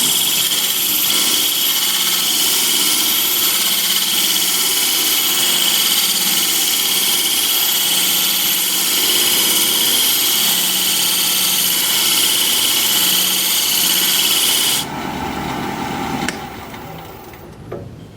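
A wood lathe turning a bead, a loud continuous whir with a hissing cutting tone that runs steadily before cutting out near the end as the machine spins down.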